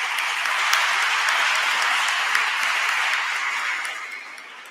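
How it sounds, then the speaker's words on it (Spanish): Audience applause at the final of an Andalusian educational debate contest: a dense, sustained round of clapping that holds steady before tapering off at the end. "Un aplauso, por favor."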